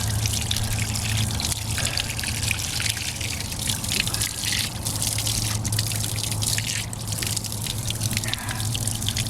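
A mountain spring on a Mt. Washington hike trickles and splashes steadily, a close, continuous watery rush that fills the whole stretch without pause.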